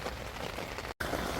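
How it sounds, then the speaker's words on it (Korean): Rain falling outdoors near an open-air wood fire where beef bone broth simmers, a steady soft hiss of drops on surfaces, continuous apart from a brief cut, with no one talking. "저렇게 지금 비가 와서"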